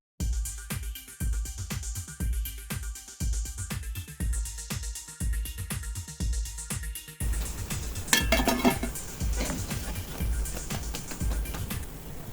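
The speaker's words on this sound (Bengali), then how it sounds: "আওয়াজ শুনে নিশ্চয়ই বুঝতে পারছেন যে সিঙ্গারাটা কতটা মুচমুচে হয়েছে।" Crispy fried liver singaras being lifted from hot oil, with rhythmic clinks and scrapes of a utensil against a pan, close and steady, then a brief louder rattle.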